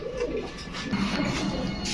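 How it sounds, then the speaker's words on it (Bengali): Pairs of silver and black Gorra pigeons coo steadily among other birds, a continuous dense murmur of low throaty calls with no pauses. "দুই জোড়া কবুতর এক জোড়া সিলভার গররা এক জোড়া কালো গররা"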